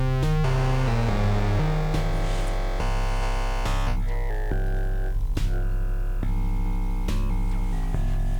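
Buzzy bass notes from an Osiris wavetable Eurorack synthesizer module, shifting in pitch and timbre one after another, loud and continuous, with no talking.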